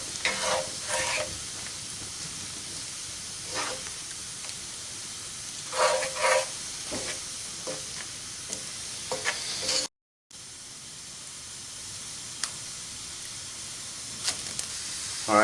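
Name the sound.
stirring ground bison meat with salt in pan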